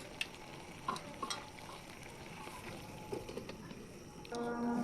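Sweet jujube pickle is stirred in a cooking pot, a soft bubbling sizzle with occasional spoon knocks and scrapes, fairly quiet, ending in a brief louder hum.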